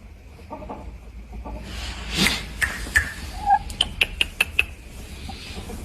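A hen among Andijan shamo and fighting-breed chickens gives soft clucks, then a rapid run of sharp, close clucks near the end, with no talk.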